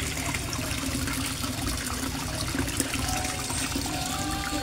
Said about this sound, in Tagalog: At ito ang waterfalls ko guys